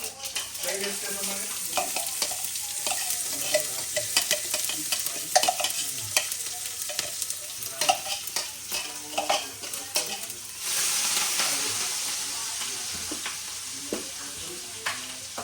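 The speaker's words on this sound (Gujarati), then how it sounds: "મસાલો વઘારવા છે ને ઢોસાનો બટેકા વાળો મસાલો મેં રાઈ નાખી દીધી છે." Mustard seeds, cumin and asafoetida crackle and sizzle in hot oil while being stirred for a dosa potato masala, with a steady fizz, frequent small pops and spoon scrapes, then a louder burst of frying near the end.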